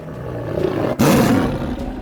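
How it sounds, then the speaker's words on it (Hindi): A cartoon lion lets out a loud, close roar that swells after a brief dip and holds steady to the end, with no voices over it. "वो उन्हें देख के जोर से दहाड़े मारने लगा"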